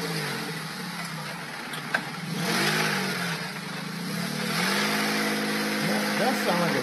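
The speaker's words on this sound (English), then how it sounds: "That sound like a V6" A car with a V6 engine revs during a repossession, its pitch sweeping up and down in several bursts at moderate distance, mixed with voices and background noise.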